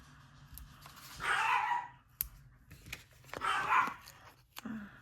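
Small Maltese dog barking indoors, a few sharp yips and barks spaced out over a few seconds, moderately close against a quiet room.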